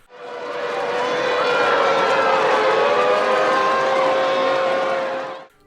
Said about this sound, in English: all to the haunting tune of screams and air raid sirens